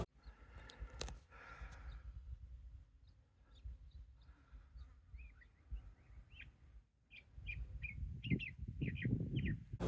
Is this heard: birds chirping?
yes